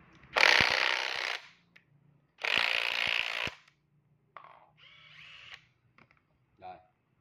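A cordless battery power tool, a hammer-type driver, runs in two strong bursts of about a second each, then gives shorter, weaker spurts and clicks, with quiet gaps between.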